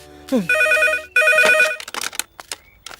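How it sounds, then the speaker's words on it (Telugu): A telephone rings in two loud electronic bursts close by, followed by a few clattering handling sounds as it is picked up. "రే ఫోన్ మోగింది"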